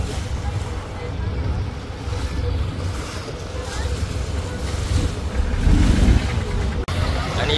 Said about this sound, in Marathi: इथे चालू झालेली आहे आता बोटीची बॅटल, रेसिंग चालू आहे